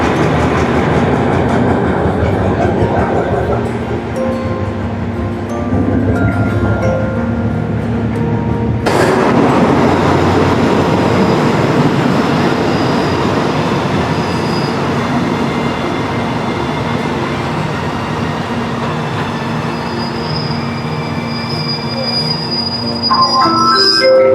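A Thai passenger train rumbles loudly along the rails near Pranburi station with a constant roar, wheels squealing and clattering throughout, heard from close by.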